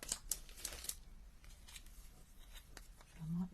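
Scissors cut pieces of card in half during card making, a few quick crisp snips close by and faint, followed by quiet rustling and a brief voice.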